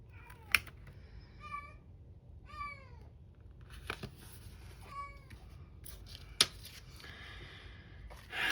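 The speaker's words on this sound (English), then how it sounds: "You guys can probably hear my cat crying in the background." A pet cat crying outside a closed craft room door, a string of drawn-out meows repeated every second or so, moderately distant, over a quiet room with a few sharp clicks and rustles.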